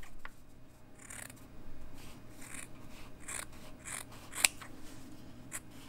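Small scissors snip through a cotton pad in a series of crisp, close cuts, several quick snips spaced irregularly over a soft background hiss, one louder snap near the end.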